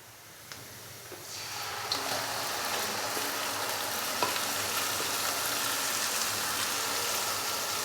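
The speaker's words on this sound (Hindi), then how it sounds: "तो अभी मैं इसके अंदर मैरिनेट किया हुआ चिकन डाल दूंगा।" Marinated chicken hits a hot pan of light-brown fried onions and sizzles loudly, the frying hiss swelling after a few soft clatters and then holding a steady, dense crackle.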